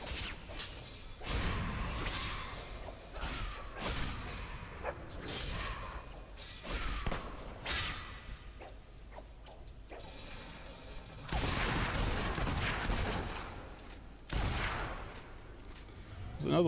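Gunshots in the video game Fable II, a series of sharp shots and mechanical clicks spread across the scene, moderately loud amid game sounds, with a voice talking at times.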